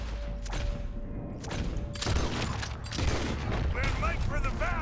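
Gunfire in Red Dead Redemption 2 crackles in dense, overlapping volleys through the whole stretch, loud and close, with voices talking underneath the shooting.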